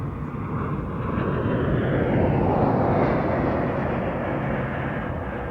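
A Lockheed C-141 Starlifter military transport flies past at an air show, a loud steady jet roar that swells and holds as it passes, continuous and without voices.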